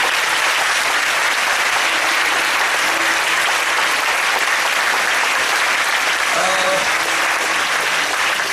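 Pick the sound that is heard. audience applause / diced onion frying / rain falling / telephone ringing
audience applause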